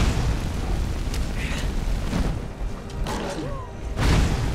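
A dual-cast fire magic spell in the Skyrim video game gives a loud, sustained roaring blast with a deep rumbling body and bursts that swell toward the end, filling the whole stretch without pause.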